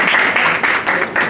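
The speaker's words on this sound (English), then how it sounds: "Can you please have a round of applause" An audience at an India–Hungary event gives a short round of applause, dense clapping from a crowd that swells and dips slightly over the brief stretch, with no voices heard.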